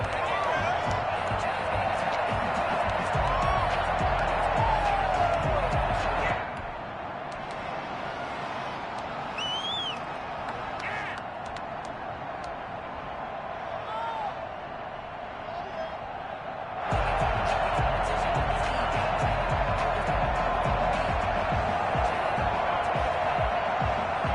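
Stadium crowd noise before a New York Jets vs Tennessee Titans football game, a steady broad roar that drops for about ten seconds in the middle and then swells back to full strength.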